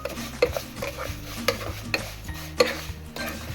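Moong dal being fried in ghee over low heat and stirred for payasam, giving repeated sharp scraping and clinking strokes of a spoon against the pan over a low background, with no talking.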